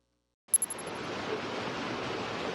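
Steady broadband rush of the Taylor River, a wild stream met on an overgrown hiking trail to Nordrum Lake, starting abruptly and continuing loud and even, with a few brief high clicks at the onset.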